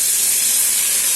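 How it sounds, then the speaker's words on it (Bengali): Grated squash hitting a hot pan with fried potatoes, giving a loud, steady, steamy hiss that fills the whole moment up close without any talk. "এখন গ্রেট করে রাখা কোয়াশগুলো দিয়ে দেবো"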